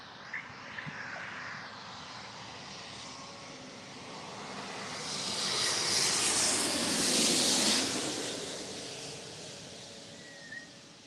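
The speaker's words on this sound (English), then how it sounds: "This is flight 6 coming in from Taipei on an Airbus A350-900." A China Airlines Airbus A350-900 arriving from Taipei, a broad jet roar that swells steadily to a peak as the aircraft passes overhead and then eases off, heard from an outdoor plane-spotting spot with no one talking.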